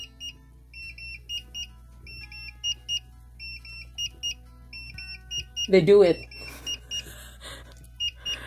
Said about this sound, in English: Now, the SoyaJoy makes the beep beep.